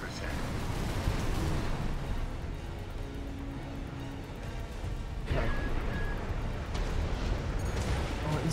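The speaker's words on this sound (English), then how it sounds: "Oh, he's got coral explosions all over him." Coral explosions boom during an Ice Worm battle in the video game Armored Core 6, a loud, continuous, rumbling barrage of blasts with sharper surges partway through.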